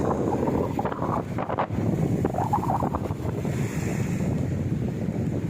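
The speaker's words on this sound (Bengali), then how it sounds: "ঢেউ কিরকম উঠছে দেখুন, নদের ধারে আছড়ে পড়ছে ঢেউগুলো" River waves from Cyclone Remal wash and slap against the bank close by at Tamluk, mixed with gusty wind buffeting the microphone.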